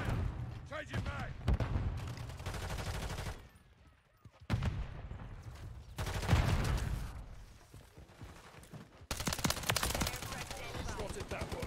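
Rapid video game gunfire from Modern Warfare 3 crackles in dense bursts with short pauses between them, while game voices call out under the shooting.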